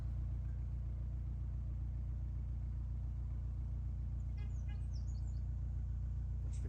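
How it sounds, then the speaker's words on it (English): Steady low rumble of cars crossing a bridge over a canal on the Aylesbury Arm, heard from below as a continuous distant drone, with a few faint bird chirps near the end. "That's the cars going over the bridge."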